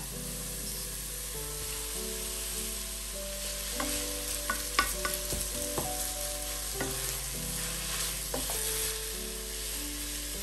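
Radish halwa with 200 grams of khoya is stirred in a pan over heat. A soft continuous sizzle runs under scattered scraping spoon strokes, with a low steady hum behind.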